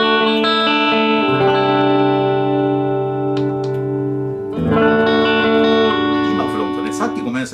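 A 1997 Orville LPS-80F electric guitar played clean through the center pickup with no effects, ringing out sustained chords that change partway through, loud and close with no voices.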